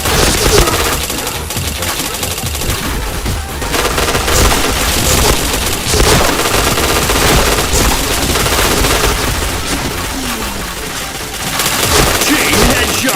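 Rapid, continuous automatic gunfire in a video game, dense sustained bursts filling the whole stretch with little pause, loud and close.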